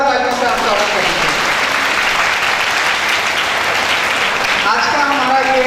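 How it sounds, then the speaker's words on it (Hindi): Loud audience applause at a women's education and safety campaign event in Amroha, a dense steady clatter of many hands throughout, with a voice talking briefly at the start and again near the end. "एक बार पुनः सभी के लिए संयुक्त रूप से जोरदार तालियों से आप स्वागत करेंगे"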